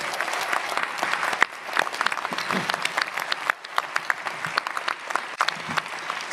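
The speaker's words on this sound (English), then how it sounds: "I want to give the parents a round of applause today." Sustained audience applause at a new lawyer induction ceremony, a dense, steady clapping from a large crowd that carries on for several seconds at moderate volume.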